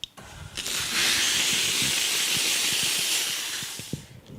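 A steam cleaner gives a short burst of steam into a cloth, a loud hissing jet that starts after a small click, holds steady for about three seconds and then tapers off, close by.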